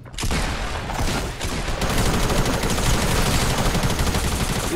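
Heavy gunfire in the video game Fortnite, a loud, continuous barrage of rapid automatic and overlapping shots from several weapons with no pauses.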